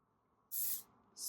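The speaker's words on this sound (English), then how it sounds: "spray this throughout your hair" Two short bursts of thermal protector are sprayed onto hair: a sharp, close hiss lasting about a third of a second, then a shorter one after a brief pause, over faint background.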